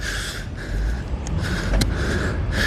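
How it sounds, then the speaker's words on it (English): Heavy, rhythmic breathing close to the microphone from a person skating, over a steady rush of wind and rolling noise. "You're gonna hear me breathing"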